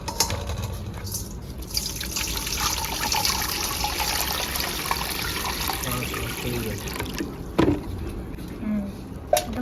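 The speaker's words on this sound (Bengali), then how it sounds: "এবার বাঁধাকপিটাকে ভালো করে জলে ধুয়ে নেবো এই গামলায়" A whole cabbage is washed by hand in a basin of water, with steady close splashing and trickling through the clip and a few sharper sloshes near the end.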